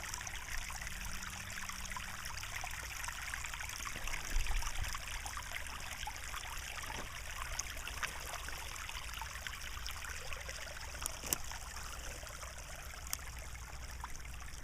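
Water flows and trickles steadily while an apple tree is watered outdoors, a constant soft babble at moderate distance with a few faint clicks and no voices.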